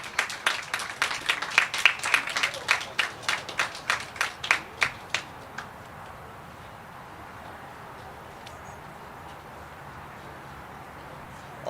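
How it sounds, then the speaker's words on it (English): A crowd claps at a grand opening event, a brisk burst of distinct hand claps that thins out and fades by about six seconds, leaving quiet room tone. "Let's give them a round of applause"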